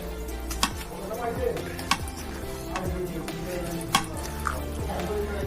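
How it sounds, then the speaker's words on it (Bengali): Malabar spinach with onion and mild spices is stirred in a pan, a spoon scraping and knocking the metal at irregular intervals over a soft sizzle, with a voice talking over it. "এখন আমি মিক্স করে নিচ্ছি"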